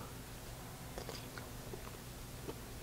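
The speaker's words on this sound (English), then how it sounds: "grab a fork, go in, take a bite, make sure your flavors are where you want them" Someone bites into and chews a forkful of creamy Ritz-topped chicken and pasta casserole, giving a few soft, close crunches and mouth sounds over a steady low background hum, with no talking.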